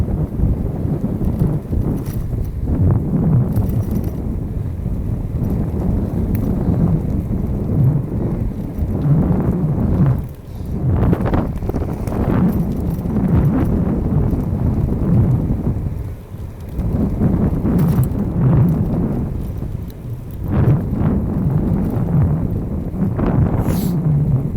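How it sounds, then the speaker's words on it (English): Heavy wind roars and buffets a microphone on a bicycle coasting downhill along the Oregon coast near Port Orford, a steady loud rush with occasional brief dips and no voices. "I'll shut up and let you hear the wind as I descend here."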